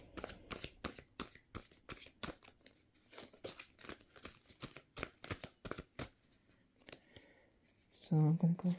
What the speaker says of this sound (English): start thinking of your question right now as I'm shuffling.